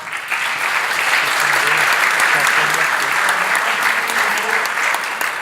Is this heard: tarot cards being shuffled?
no